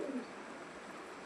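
Pigeons, local and Pakistani birds kept for sale, give a soft coo at the start, faint against a quiet background.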